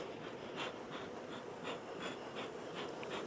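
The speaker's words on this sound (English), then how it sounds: "you can see how many bees I have on March the 13th." Honey bees humming inside a hive during the first spring inspection after winter, a steady close buzz with soft rising swells, with no voices.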